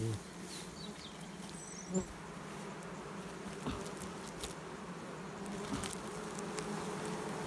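A honeybee swarm being gathered into a framed hive, a steady dense buzzing drone from many bees that fills the background, with individual bees whizzing close past now and then and no talk.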